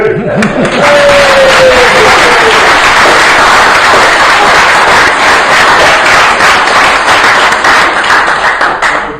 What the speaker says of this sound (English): that would definitely be the loudest applause we've ever had in the greenhouse